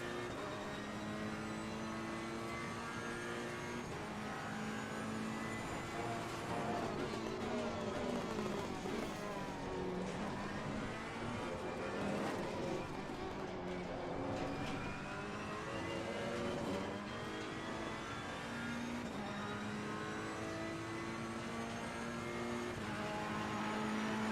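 A Ferrari race car laps Imola in the racing game Assetto Corsa Competizione, its engine droning steadily with harmonic revs that climb and drop through gear changes, fairly quiet and with no talking.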